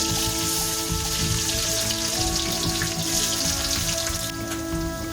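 Chopped onion sizzles loudly in hot oil in a wok, a dense, rain-like crackle that holds steady and close for the whole stretch.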